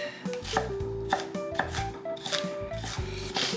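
Onions being chopped with a knife on a cutting board, a series of crisp, close thuds and blade knocks falling in an uneven rhythm, alone without talk.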